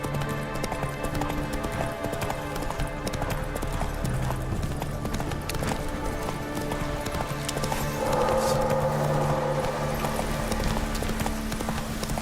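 Roach the horse from The Witcher 3 gallops in a steady, rapid rhythm of hoofbeats under game music and ambience, with the sound swelling somewhat louder toward the end.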